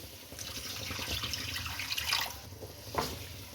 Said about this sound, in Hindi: अब इसके अंदर हाफ कप के करीब पानी डाल दें